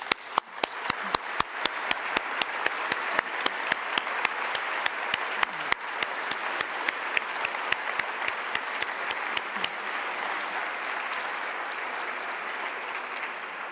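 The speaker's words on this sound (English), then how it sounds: "Let us mark this historic moment with a final round of applause." Applause closing the Naples Conference on Cultural Heritage in the 21st century in Italy, a sustained round of many hands clapping with a few sharp distinct claps on top, steady for about ten seconds before thinning slightly.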